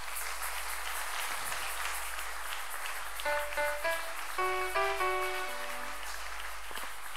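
A church congregation claps and cheers at an evening service, steady applause under a keyboard or organ playing short melodic notes midway, continuing at a moderate level.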